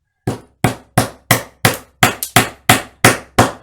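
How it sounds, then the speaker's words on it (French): A glued wooden dowel, thicker than its hole, is driven home with a hammer in about ten sharp, evenly spaced blows, close and loud, with silence between strikes. "Je le rentre au marteau, je le rentre au marteau."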